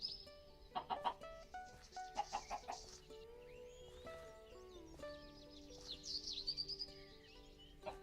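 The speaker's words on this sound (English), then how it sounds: "Chickens." Quiet game music plays in Minecraft while blocky chickens cluck in scattered short bursts, with a few clusters of clucks over several seconds.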